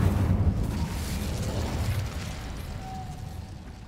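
In Hogwarts Legacy, an Incendio fire spell bursts out with a deep whooshing rumble that is loudest at the start and fades into a low roar over a few seconds.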